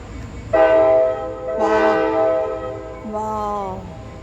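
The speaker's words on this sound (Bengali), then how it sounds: "দেখো স্টিম ট্রেন আরম্ভ" A steam train departing at Jim Thorpe sounds three loud, drawn-out whistle blasts, the second sliding downward in pitch, over a low background murmur.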